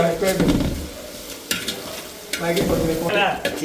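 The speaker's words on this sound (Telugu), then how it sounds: "ఈ చికెన్ మరి ఇప్పుడు దబరాలో వేస్తున్నాడు స్లోగా" Raw chicken pieces slide into a large pot of hot oil, which breaks into a loud, steady sizzle with bursts as each piece lands and gets stirred, close by over two or three separate splashes.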